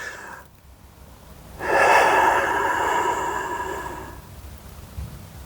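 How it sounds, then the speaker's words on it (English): A person slowly draws a deep breath in and then lets out a long, audible exhale as an anxiety-reducing exercise, the airy sound rising suddenly and fading gradually, close and alone. "So big breath in."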